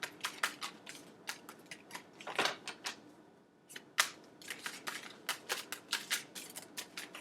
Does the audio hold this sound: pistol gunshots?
no